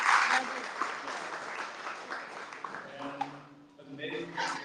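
A crowd at a weekly tech talk on responsible AI claps at the start, the applause thinning out, then voices talk over the fading clatter.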